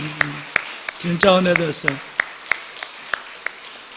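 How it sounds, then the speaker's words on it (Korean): A Korean church congregation applauding while the choir leaves, with evenly spaced, fairly light hand claps in a hall and a brief spoken phrase partway through. "우리 성가대 다 들어갈 때까지 큰 박수 합시다"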